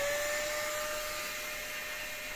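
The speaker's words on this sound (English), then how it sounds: "turning on the dust extractor" A dust extractor runs through a 3D-printed adapter nozzle on a vacuum hose, giving a steady loud whining rush with a high tonal hum, constant throughout with no voices.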